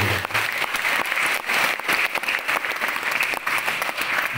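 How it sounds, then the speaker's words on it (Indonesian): A school audience claps for teachers at an Islamic sermon held at a school, a loud, close burst of dense applause with distinct individual claps and no speech. "Tepuk tangan bagi guru."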